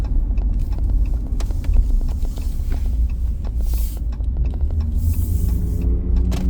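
Inside a vehicle on an Ohio state route near a bridge, a low road rumble and engine drone dominate, with a following car pressing close behind amid steady tyre and wind noise.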